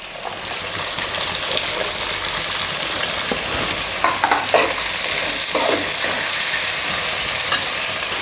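Sliced onions fry and are stirred in a pan for a brinjal pulao, giving a loud, continuous sizzle broken by repeated scraping strokes, with no voices.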